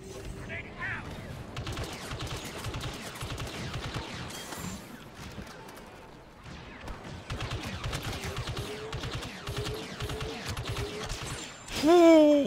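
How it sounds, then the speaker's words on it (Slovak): Rapid gunfire from a ship in Star Wars Battlefront II during a battle on Naboo, with quick repeated bursts and shots rattling through most of the stretch and a rising electronic whine near the end. "Tak teraz po mne strieľa lodička."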